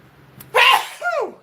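A single sharp, loud sneeze indoors by a computer, a quick inhale then a burst, followed by a short voiced exhale.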